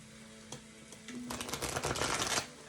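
Tarot cards are shuffled close by in a quiet room: a faint tap, then about a second of dense riffling and flicking.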